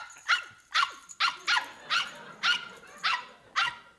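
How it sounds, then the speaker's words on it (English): A small dog gives eight sharp, evenly spaced yips and barks, fairly close and clear over a quiet room. "The dog. Cute dog."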